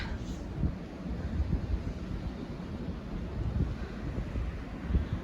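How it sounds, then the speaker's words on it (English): Strong storm wind blowing outside, a steady rumbling roar with gusty buffeting against the microphone, moderately loud and continuous throughout, with no speech over it. "And you hear that wind."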